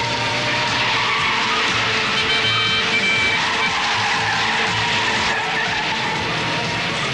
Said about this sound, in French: non mais du dérapage contrôlé maintenant